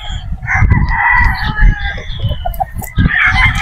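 A straight-comb Boston Roundhead rooster crows loudly and close by, a long drawn-out call over steady background noise with a second shorter call near the end.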